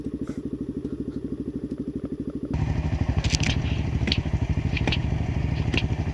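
A supermoto motorcycle engine thrums steadily and loudly at close range, swelling as the bike passes and smashes a pumpkin, with scattered cracks and clatter over the rumble.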